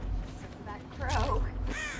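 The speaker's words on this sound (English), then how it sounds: "That crow." Crow cawing in Dead by Daylight, a few harsh caws over a low rumbling backdrop, with a voice talking over part of it.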